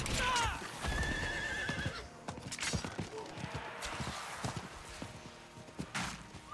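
A horse in the Diablo IV video game whinnies sharply at the start, then its hooves clip-clop at a steady walking pace, with the odd thud, under a faint voice.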